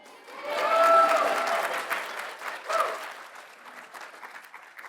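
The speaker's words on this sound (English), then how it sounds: "Give them a round of applause." An audience at a law school honors day applauds Community Service Award winners; the clapping swells quickly, peaks early, then gradually thins and fades, with a few brief whistle-like tones near the start.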